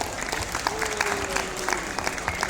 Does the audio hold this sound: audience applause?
yes